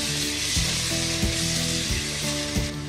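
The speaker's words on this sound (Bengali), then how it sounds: "মশলাটা এভাবে আমি 10 মিনিটের মতো কষাবো।" Spice masala frying in a pan for cow head curry, a loud continuous sizzle up close with several rhythmic stirring knocks roughly every half second to second.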